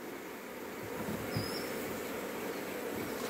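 Honey bees humming steadily inside a hive, a continuous close insect drone with no voices over it.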